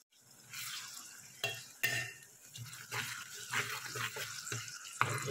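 Ground coconut masala stirred into softened onion and tomato in a pan gives a low, continuous scraping and sizzle, broken by several clattering spoon knocks against the vessel, close and fairly quiet.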